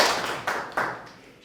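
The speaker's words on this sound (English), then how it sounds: "Please clap for yourself." Students in a classroom clapping for themselves, a short burst of a few hand claps close by that fades quickly, with no talk over it.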